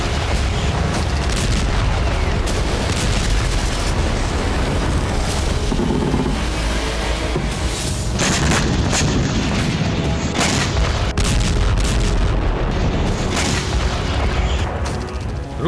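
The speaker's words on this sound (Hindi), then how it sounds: "कीव में 25 से ज्यादा बड़े धमाके हुए।" Russian missile strikes hit Kyiv, producing a long run of heavy booms and blasts over a loud rumbling roar, with repeated sharp bursts throughout.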